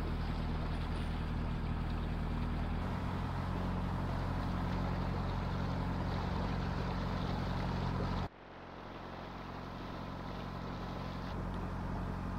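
A narrowboat engine chugs steadily with a low, continuous rumble while cruising a long, straight canal stretch in cold weather. The drone briefly drops near the end, then resumes slightly quieter.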